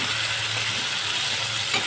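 Shrimp fry in a pan with a close, steady hissing sizzle and faint stirring, brief and continuous without voices.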